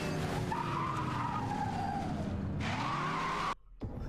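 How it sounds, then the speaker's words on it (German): Tyres of a Mercedes SL 65 AMG spin and squeal in Need for Speed: Most Wanted, a loud sustained screech over a roaring engine that ends abruptly, then a brief return of engine noise. "Durchdrehende Reifen macht das schön."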